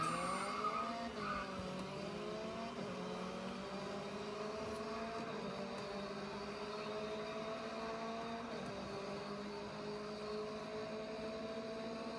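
Race cars in the video game GRID Autosport, played on a 2021 M1 iPad Pro, roar steadily as engine notes climb and drop through gear changes, with a faint tire squeal and no voices.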